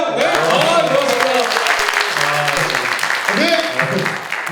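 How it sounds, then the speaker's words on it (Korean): Audience applause at a live Korean talk show on laughter therapy, a steady wash of clapping with cheering voices and a man's speech over the top throughout. "자, 박수 한번 주세요."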